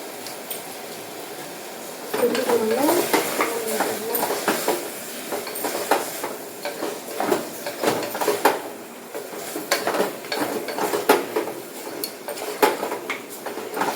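A spoon stirs garam masala and chilli powder into a dish in a pan, giving repeated scraping and clinking of metal against the pan in an irregular rhythm, close and fairly loud, with no talking.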